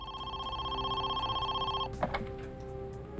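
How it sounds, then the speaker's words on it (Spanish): A telephone rings with a steady electronic trill that holds for almost two seconds and then stops, followed by faint clicks and handset noise. "el teléfono volvió a sonar."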